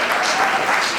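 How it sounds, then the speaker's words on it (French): Applause at a civil wedding ceremony, a close, continuous patter of clapping hands, loud and even for the whole brief stretch. "vous voyez comment elle applaudit"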